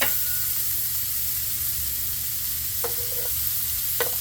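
Smash burger patty pressed over onions sizzles steadily on a 350-degree griddle, a continuous close frying hiss with a couple of brief scraping spatula sounds near the end.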